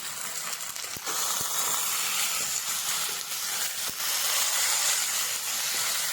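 Onions and tomatoes sauté for a prawn gravy, giving a loud, steady, hissing sizzle throughout with a few faint utensil taps, heard close and without talk.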